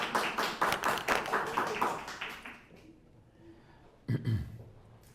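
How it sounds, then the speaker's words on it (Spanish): A small audience at a photography exhibition talk claps for a guest speaker with a few seconds of scattered, moderately loud hand claps that taper off into quiet, followed by a single dull thump. "Les pido un fuerte aplauso para nuestro invitado el día de hoy."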